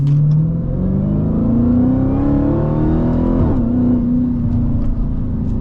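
A Dodge Hellcat accelerates hard on the road, its engine note climbing steadily through the gears in a loud, continuous roar with a brief dip at a shift near the middle, close and alone with no talk.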